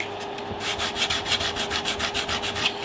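Rhythmic back-and-forth sanding strokes on a wooden electric guitar body, close and steady, roughly a dozen scratchy rubs with a faint hum underneath and no voices.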